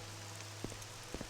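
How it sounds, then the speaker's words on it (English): Soft, steady patter of rain in the game Morrowind, a faint continuous hiss with a couple of louder drops standing out, heard alone without voices. "it's raining like crazy"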